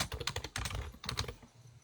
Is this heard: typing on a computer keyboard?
yes